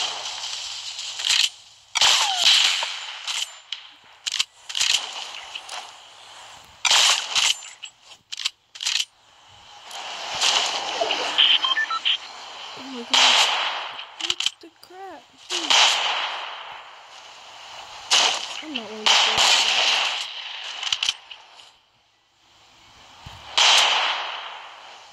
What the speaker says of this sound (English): I'm gonna shoot the street out.